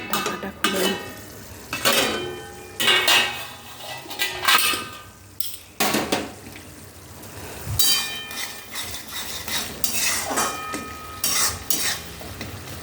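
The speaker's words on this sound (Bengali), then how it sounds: "এবার ভালো করে একটু কষিয়ে নিই" Spoon stirring and sautéing a potato curry for dal puri in a metal pan, repeated scraping and clinking strokes in an irregular rhythm over a soft sizzle, close and clear with no talk.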